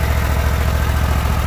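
Steady idle of a John Deere Z970R zero-turn mower engine, a close, even low rumble with a regular pulsing beat and no talk.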